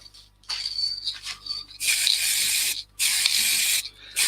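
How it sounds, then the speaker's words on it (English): An aerosol can of acrylic sand and sealer sprays in several hissing bursts, short ones first and then two long, loud blasts separated by a pause. "Just putting some spray on acrylic sand and sealer."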